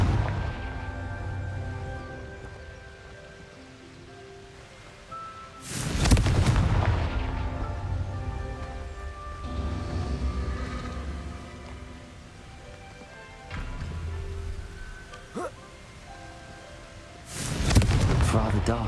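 Blasting-spell explosions in the Hogwarts Legacy video game go off as a few separate booming bursts, spaced apart over a low ambient game soundscape.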